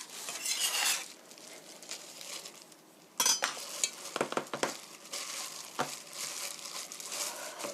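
Fried-dumpling filling with chopped chives and Welsh onion is gently mixed by hand in a bowl, giving soft, close squelching and rustling in uneven bursts, with a brief quiet pause partway through.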